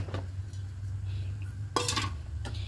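Rice flour worked into milk in a pot for soft dudh puli pitha, heard as a quiet steady scrape and stir with a few brief clinks of a utensil against the pot over a low hum.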